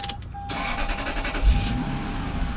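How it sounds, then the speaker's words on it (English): A 2002 Lexus SC 430 cranks and catches in a short whirring burst of about a second, preceded by a steady electronic chime tone, then settles into a quieter idle hum. "Okay, so I'm going to start up the vehicle."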